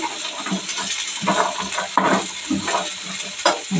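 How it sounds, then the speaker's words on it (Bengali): Maggi noodles fry in a pan, a continuous sizzle broken by repeated scraping and stirring clatters of a utensil against the pan, close and moderately loud, with no talk. "ওইটা একটু ভেজে নেব।"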